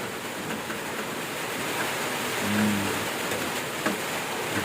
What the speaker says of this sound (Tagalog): Napapayulan na po.